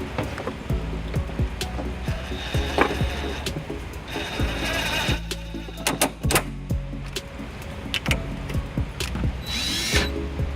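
A power tool fitted with a 14mm socket spins out cargo anchor bolts in the rear of a 2010 Toyota RAV4, giving repeated short whirring and ratcheting bursts at close range over a busy, clattering background.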